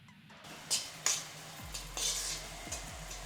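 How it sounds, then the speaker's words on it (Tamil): Tomatoes softening in oil in a pan for a mushroom gravy, a low steady sizzle under scraping stirs and a few sharp clinks of a spoon against the vessel. "தக்காளி எல்லாம் எண்ணெய் பிரிஞ்சு வர அளவுக்கு வதங்கிருச்சு."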